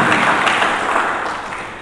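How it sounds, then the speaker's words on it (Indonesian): A church congregation applauds during an Indonesian-language sermon, giving a steady, dense wash of clapping that fills the short moment and fades slightly toward the end, with no talk over it. "Mari kita berikan tepuk tangan bagi Yesus Kristus."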